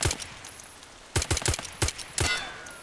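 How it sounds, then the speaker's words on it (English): Rapid bursts of gunfire from a first-person shooter game played through triple-driver in-ear earbuds, sharp separate shots in clusters with short pauses and a faint high whine trailing after. "We could just test out the gun sounds here."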